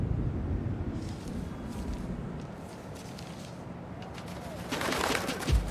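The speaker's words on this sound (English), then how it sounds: "Hey, Pigeon! Stop!" Pigeon cooing in the Spider-Man Miles Morales video game, soft low coos over game background noise, with rustling and a brief flurry of sharper sounds near the end.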